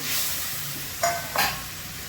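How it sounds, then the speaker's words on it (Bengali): Pabda fish dropped into a hot pan for a nigella-seed pabda curry, with water already added, gives two short, loud bursts of sizzling about half a second apart over a low, steady background hiss. "এই মাছগুলো দিচ্ছি,"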